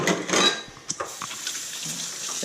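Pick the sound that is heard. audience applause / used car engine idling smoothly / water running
water running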